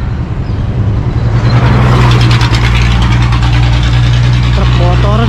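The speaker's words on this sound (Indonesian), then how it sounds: "Truk bawa toren." A truck carrying a water tank rumbles past on a village road in Tebo Tengah, its engine drone steady and fairly close for a few seconds, with talk over it.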